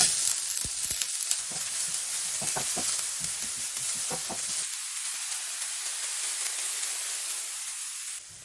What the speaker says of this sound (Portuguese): Em uma frigideira bem quente, adicione um fiozinho de óleo, uma cebola picadinha,